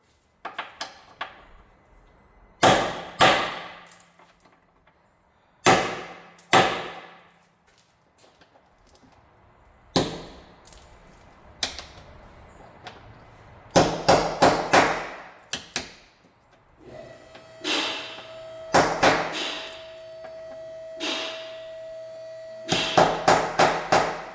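Hard metallic hammer blows on a rusted-through vehicle crossmember ring out in clusters, single strikes and rapid triple hits, separated by quiet gaps, close and loud.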